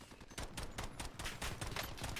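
Gunfire in the video game Modern Warfare 2, with rapid bursts of shots at moderate loudness and no talk.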